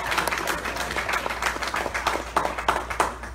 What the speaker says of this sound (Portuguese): Quem pode aplaudir ao Senhor mais uma vez?